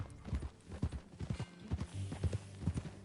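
Horse hooves clip-clop in a steady, fairly quiet rhythm of repeated soft thuds in the Red Dead 2 video game, with no talk over them.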